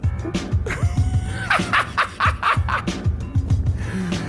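A dog barks in a fast run of sharp yips and bow-wows, close and loud, with short whimpery notes between the barks and no talking.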